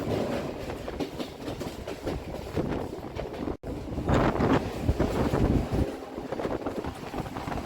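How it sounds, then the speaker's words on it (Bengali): A Gede–Sealdah local train pulls into Bidhannagar Road station on the Kolkata circular rail line, with a steady loud rumble, clickety-clack of wheels and wind buffeting the microphone, heard close with no talk. "গেদে শিয়ালদা লোকাল আসছে বিধাননগর রোড স্টেশন"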